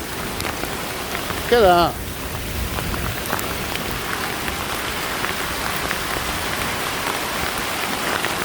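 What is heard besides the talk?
hailstorm hail falling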